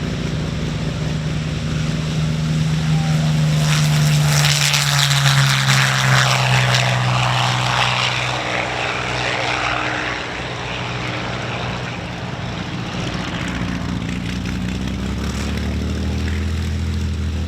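A Supermarine Spitfire Mk IX taxis out at a warbird weekend, its piston engine and propeller a loud, continuous drone with a deep throb whose pitch slowly shifts and sags as it rolls past nearby, with no voices.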